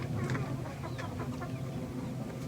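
Chickens in a backyard coop give faint, scattered clucks over a steady low background hum, quiet and somewhat distant, with no voices.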